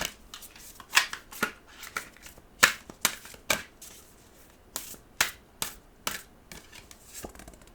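Oracle cards being shuffled by hand, a string of crisp, papery riffles and snaps arriving in short irregular bursts, close and alone.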